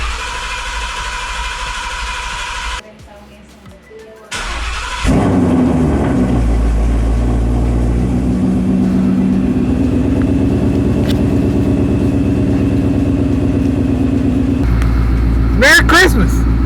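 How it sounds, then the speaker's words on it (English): A 2017 Ford Mustang with a Paxton supercharger, fuel pump disconnected, cranking over: after a brief lull comes a loud, sustained mechanical churn lasting about ten seconds, then a few sharp clicks, with voices nearby. "we'll cycle the engine a couple times and then we'll connect the fuel pump and send it"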